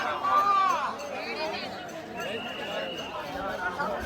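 Large crowd packed at the temple entry of Ram Mandir in Ayodhya, a dense continuous babble of many voices close around, with nearby people talking over the hubbub.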